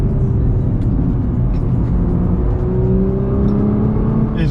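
A Nissan R35 GT-R accelerates hard along a road, its engine drone rising steadily and continuously for several seconds, loud and close as if heard from inside the cabin, with no talking over it.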